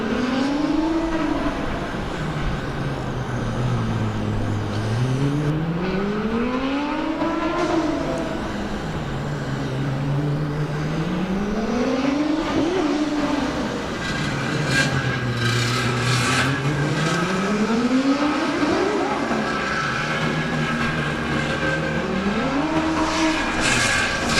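A Formula Student race car engine rises and falls in pitch in repeated smooth sweeps as it circles a skid pad loop, loud and continuous, with a faint rasping tire scrub underneath.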